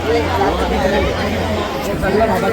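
Dense crowd chatter fills a busy Konkani market in Bhandup during the Ganpati festival, many overlapping voices forming a steady babble throughout.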